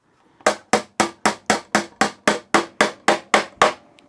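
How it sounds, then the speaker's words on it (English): A small, wide-headed hammer drives nails into a butt-jointed wooden box: twelve sharp, evenly spaced strikes about a quarter second apart, loud and close, each with a quick ringing decay and no talking. "I just have another small hammer like this. The head's a little wider, so it's easier to drive them in"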